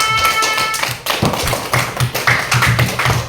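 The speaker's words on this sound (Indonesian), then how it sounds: "Baik, beri tepuk tangan untuk kita semua." A classroom of pupils claps in applause, a run of quick, rhythmic claps that grows steadier and fuller toward the end, close and fairly loud.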